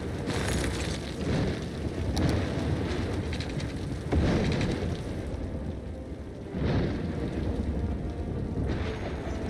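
Steady rain with low rumbling swells of thunder in a Cities: Skylines city-builder storm, broad continuous roar rising and falling over nearly ten seconds, no talking.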